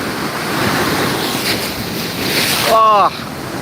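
At Gandhi Beach in Pondicherry, strong sea waves roar steadily against the rocks in a loud, continuous wash with gusty wind on the microphone, and a brief high whistling tone rises near the end.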